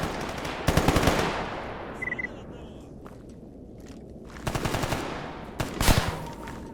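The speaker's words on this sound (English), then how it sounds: "they're just shooting blind, I'm fairly certain" Enemy gunfire from bandits in the video game Stalker Gamma comes in a few short automatic bursts, moderately loud and somewhat distant, separated by quieter stretches of ambient game noise.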